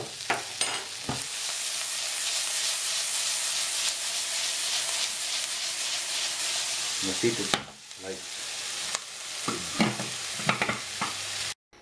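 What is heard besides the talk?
onions caramelizing with sugar in pan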